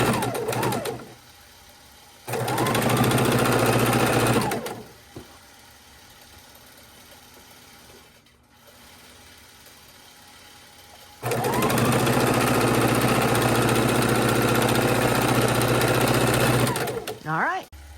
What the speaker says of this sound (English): those extra stitches you're hearing in the background is a Gamma Optimum Statler stitcher